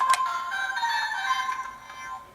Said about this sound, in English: I really like that Henshin, the cell phone sound, the ringtone.